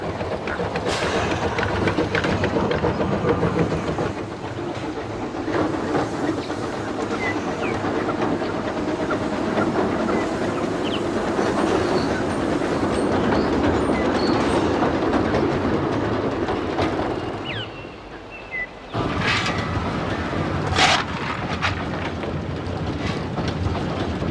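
An old steam train, the Coffee Pot, runs steadily from Quorn, with continuous chugging, hissing and rhythmic clatter of wheels on the rails, briefly dipping before resuming.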